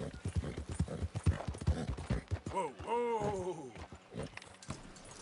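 Horse hooves clip-clop in a hunting video game, a quick run of close, rhythmic hoof strikes joined by a drawn-out whinny in the middle and lighter steps afterward.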